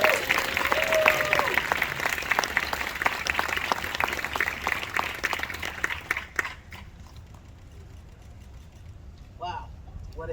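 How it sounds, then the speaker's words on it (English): A crowd at a groundbreaking ceremony in Detroit gives a dense round of applause that fades after about six seconds into quieter ambience, with a voice speaking near the end. "Teresa Moon, let's give her a round of applause"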